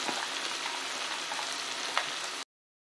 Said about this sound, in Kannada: ನಾನಿಲ್ಲಿ ಒಂದು ಅರ್ಧ ಕಪ್ ಕ್ಯಾರೆಟ್ ಕಟ್ ಮಾಡಿದ್ದೀನಿ, ಅದನ್ನು ಹಾಕೋತಿದ್ದೀನಿ